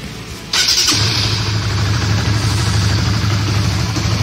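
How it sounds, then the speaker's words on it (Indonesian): A Honda CB150R motorcycle fires up with a keyless smart-start button. There is a short cranking burst, then the engine catches and settles into a steady, close, loud idle with no talking. "Motor nyala sendiri tanpa kunci bro"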